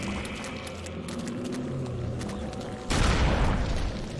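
A heavy shotgun blast in Eternal Darkness: Sanity's Requiem on GameCube lands as a sudden loud boom after a stretch of steady background game ambience and music, then its dense noise rings on briefly.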